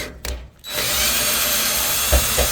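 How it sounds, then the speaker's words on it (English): A power drill spins out quarter-inch bolts on an electric dryer during heating element replacement, a loud sustained whir close up with a brief start and two short bumps near the end. "first we'll undo these 1/4-inch bolts again"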